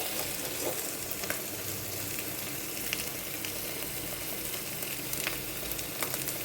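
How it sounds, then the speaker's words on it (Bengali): Spice paste frying in a pan for prawn masala curry, a steady close sizzle with occasional sharp pops and crackles, moderate level and no speech. "একটু মশলা ভাজতেই যা টাইমটা লাগবে"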